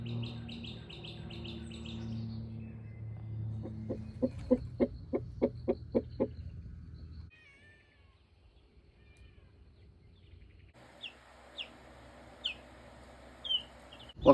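Backyard chickens cluck and call in a short run of repeated, evenly spaced notes, then a few sharper chirps after a quiet gap, with steady outdoor background noise throughout.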